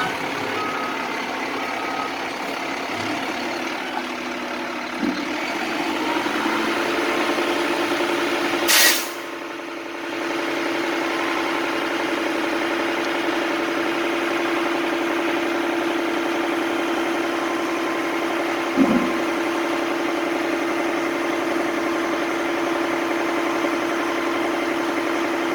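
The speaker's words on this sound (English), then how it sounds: "Takes a little finagling to turn a truck that big around in this small parking lot" A big truck idles and manoeuvres in a small parking lot, its engine droning steadily, with reversing beeps, a brief loud burst near the middle and a short clunk later.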